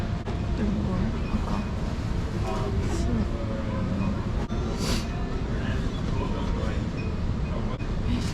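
A train travels along the rails with a constant loud rumble, faint rhythmic clatter and occasional higher squeals, with people talking over it.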